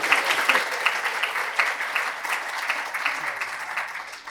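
A conference audience at a behavior-change session claps together in a dense, steady round of applause that stays loud throughout.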